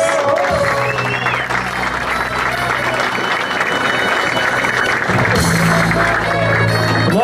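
A crowd at the Soco na Gangrena 2019 final claps and cheers for a DJ, a loud, dense roar of applause filling the whole stretch, with voices shouting in the background and a low rumble under the noise.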